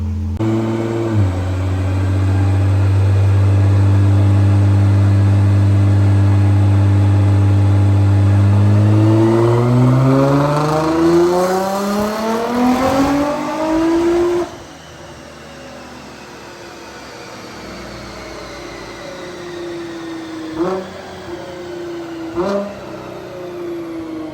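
A silver Nissan GT-R makes a dyno pull, its engine climbing steadily in pitch for about ten seconds, then cutting off abruptly into a lower idle with a couple of brief blips, loud and close, with no talking.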